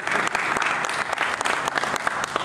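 Audience applause during the 2015 Ford Mustang reveal presentation in New York City, a moderately loud crowd clapping with uneven bursts and individual sharp claps standing out.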